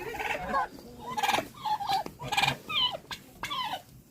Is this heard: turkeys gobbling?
yes